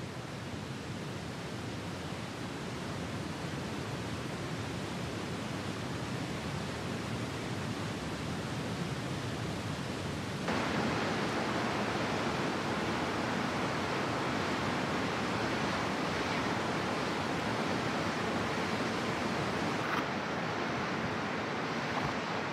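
Angel Falls in Venezuela, the world's highest waterfall, roars as a broad, steady wash of falling water, close and constant, growing louder and brighter partway through as the listener moves right beneath the falls.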